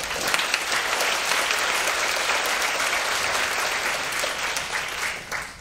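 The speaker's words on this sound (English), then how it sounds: "give a round of applause for all the" An audience at a Taipei salon talk applauds for volunteers, a full, continuous roll of clapping from a crowd that holds steady and then tapers off near the end.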